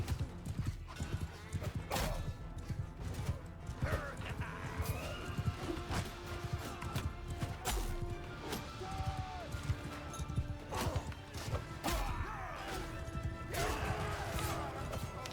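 Horses galloping in a battle in the video game Mount & Blade II: Bannerlord, with dense rapid hoof clatter, occasional whinnies and crashes continuing throughout, loud and close, with talk over it.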